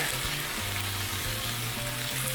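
Onions fry in a hot pan with a steady, close sizzle that hisses evenly throughout, with a low hum running underneath and no voices.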